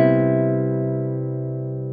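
A single sustained guitar chord rings out alone and decays very slowly, its harmonics holding strong for the whole stretch with no other sound.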